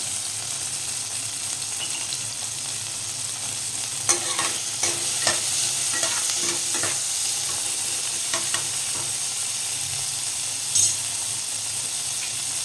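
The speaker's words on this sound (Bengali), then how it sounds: "টমেটোটা ফ্রাই করে নেব।" Tomato, salted, fries in a pan for a mourola fish curry, giving a constant soft hiss. A cluster of spatula scrapes and taps comes in the middle, and no one speaks.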